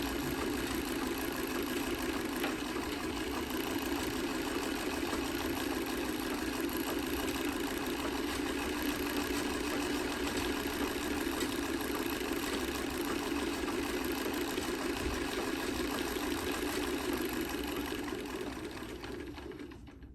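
A 122-year-old Singer Model 27 sewing machine running at steady full speed while winding a long bobbin, giving a continuous close mechanical whir and hum with a fine rapid rattle throughout.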